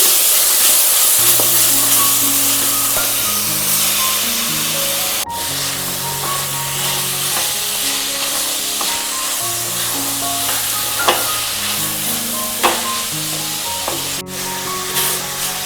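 Sliced onions frying in a hot pan for a Kerala-style beef curry, a steady close sizzle that runs throughout alongside melodic background music, with no talking.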